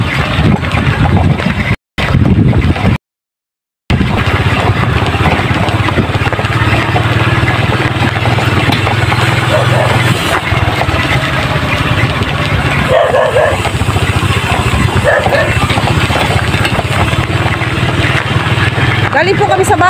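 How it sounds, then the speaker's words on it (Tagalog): Motorcycles ride along continuously at close range, a steady mid-pitched engine drone that lasts throughout, with brief dropouts near the start. "makikita nyo na kung paano kami mag-drive ng aming mga motor"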